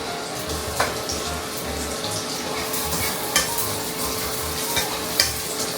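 Garlic, onions and ginger fry in melted butter with a steady broadband sizzle, broken by a few sharp scrapes and clacks of stirring, close and moderately loud with no talking.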